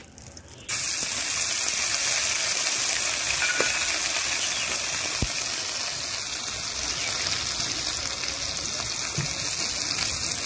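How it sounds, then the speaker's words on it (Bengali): Constant sizzling crackle of whole spices, bay leaf and dried red chilli frying in hot oil, a loud steady hiss that starts abruptly and runs on without pause. "এটা ফোড়নটা ভাজা হয়ে গেছে, দিয়ে দেবো মশলা।"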